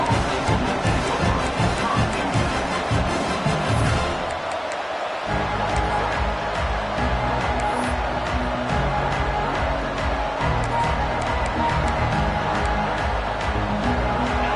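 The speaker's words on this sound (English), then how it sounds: "This crowd ready to make its presence known." A football stadium crowd keeps up a loud, continuous roar that swells and churns throughout, with a brief dip partway through before it surges back.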